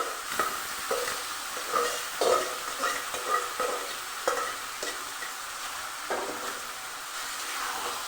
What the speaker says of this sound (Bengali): এবার আমি দিয়ে দেবো সেদ্ধ করা শাক